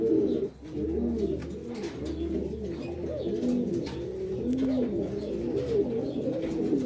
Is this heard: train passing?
no